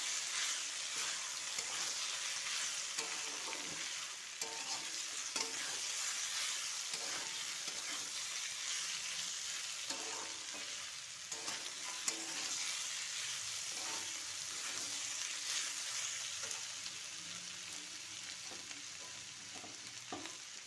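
Potato and egg frying in a pan for a breakfast bhujia, a constant bright sizzle broken by repeated soft stirring scrapes, steady and close.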